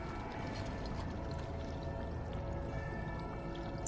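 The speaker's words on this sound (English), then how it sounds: "Then we gotta fill the jug with water." Water being poured into an earthen jug inside the Dragon Age: Origins fantasy game, a steady trickling pour mixed with faint mechanical clinks, continuous and low in level for a few seconds.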